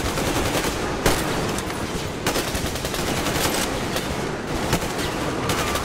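Rapid gunfire in the shooter game Metro Exodus crackles as dense, continuous bursts of shots over a loud, busy game soundscape, with no talking.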